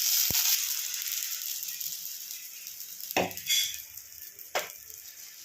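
An omelette sizzles steadily in a pan on a home stove, a continuous bright frying hiss with a few sharp clinks and scrapes of a utensil against the pan.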